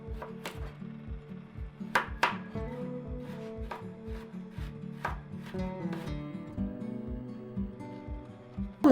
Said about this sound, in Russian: огурцы и морковь режу сначала такими вот продольными кольцами,